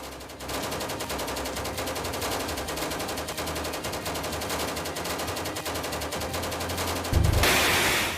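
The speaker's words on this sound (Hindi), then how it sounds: "ये है दुनिया की सबसे खतरनाक गन, AK-630" An AK-630 rotary cannon fires in one continuous, rapid burst lasting several seconds, loud and dense throughout, with a heavier surge near the end.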